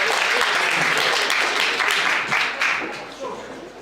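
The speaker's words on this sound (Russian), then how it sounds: "аплодисменты" A rock concert audience breaks into loud, close applause. Dense clapping is mixed with some crowd noise and fades slightly toward the end.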